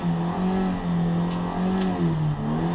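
A 1600cc Toyota MR2 race car engine revs steadily at Brands Hatch, a loud sustained drone that dips briefly as the car shifts, close by and alone without commentary.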